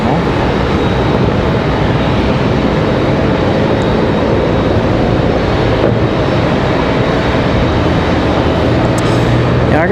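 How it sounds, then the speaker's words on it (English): JetBlue Airbus A220-300 arriving at Raleigh-Durham airport from Boston, a loud steady broadband jet roar that holds evenly throughout without talk. "We've got JetBlue from Boston and an A220-300. That is our next arrival."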